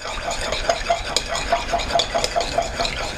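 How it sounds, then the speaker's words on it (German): Orange vinaigrette dressing being stirred in a bowl, a quick, regular scraping and clinking rhythm of about five strokes per second, close and steady with no talking. "Und das Ganze dann einfach gut umrühren, bis sich alles wunderschön verbunden hat."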